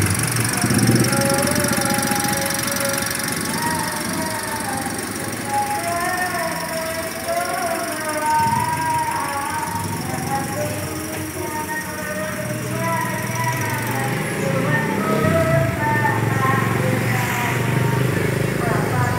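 The 1.2-litre engine of a 2018 Daihatsu Ayla fitted with an HHO fuel saver runs at a steady, rough idle close by, with a person talking over it throughout.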